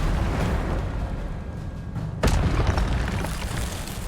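A fire spell bursts with a sudden booming whoosh in Hogwarts Legacy, rising out of steady rumbling game ambience and trailing off into a dense roar.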